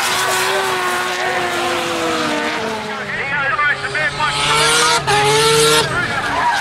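Nissan 180SX and Skyline drift cars at Hampton Downs during a D1NZ round, engines wailing and revving with tire squeal, loud and continuous under a commentator's voice.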